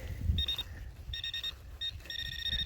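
A metal detector with a 15-inch Detech Ultimate spiral DD coil gives a steady electronic tone in repeated bursts, cutting in and out irregularly over a low background rumble, signalling a deep bullet, with no talking.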